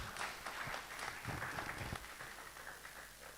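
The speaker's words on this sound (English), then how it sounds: "Round of applause for Dr." An audience at a Pan African digital collaboration event applauds, a faint, distant wash of clapping that stays steady and then thins out toward the end.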